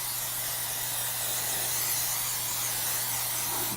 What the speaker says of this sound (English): So what we're gonna do, we're gonna spray our pan.